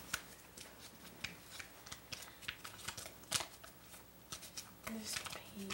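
Paper is handled on a children's show: brisk, continuous rustling and crinkling close by, with uneven crackly bursts throughout.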